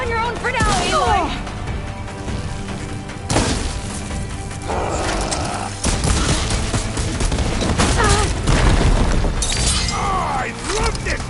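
A heavy cannon booms and crashes repeatedly during combat in the video game Horizon Forbidden West, the blasts mixed with shattering impacts and dense game effects.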